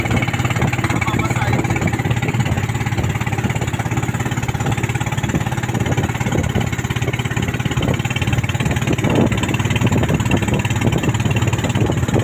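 Steady drone of a fast boat's motor running continuously at close range in Sual, Pangasinan, with faint voices in the background.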